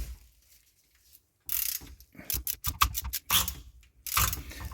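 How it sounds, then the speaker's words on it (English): A ratchet clicks during a differential fluid change on a 2019 Honda Pilot, a run of sharp close metallic clicks and taps in short bursts after a quiet opening, with no voices. "we're going to tap the ratchet on the end to make sure that it's seated all the way in"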